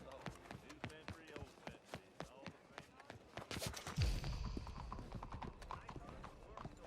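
Horse hooves clip-clop in a steady walking rhythm in Red Dead Redemption 2, close and distinct, with a louder thud midway and voices speaking over part of it.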